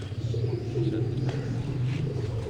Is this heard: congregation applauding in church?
no